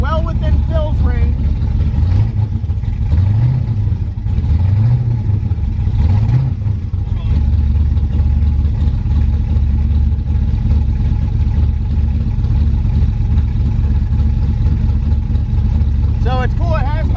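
A twin-turbo LS-swapped Mustang idles with a deep steady rumble, with a few quick rising revs early on, loud and close, while people talk over it throughout.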